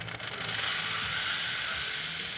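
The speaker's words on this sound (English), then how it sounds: "Nice strong steam." A La Pavoni espresso machine's steam wand, freshly tuned up, lets out a strong, steady hiss that rises and then holds loud and continuous for a couple of seconds, with no one talking.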